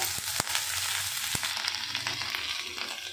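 Chopped ginger, bay leaf and cumin sizzle in hot white oil, a close steady crackling hiss with a few sharp clicks of utensils against the pan, alone without talk.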